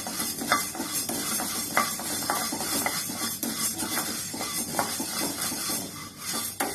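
Urad dal is stirred continuously while dry-roasting in a pan for idli podi, with a steady scrape of the spoon against the metal, light crackling, and irregular clinks repeating throughout.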